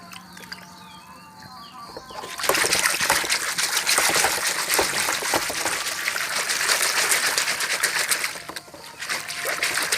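Water gushes and splashes steadily into a basin while small termite mushrooms are being washed. It starts abruptly after a quiet stretch and stays loud and close to the end, with faint fowl sounds in the background.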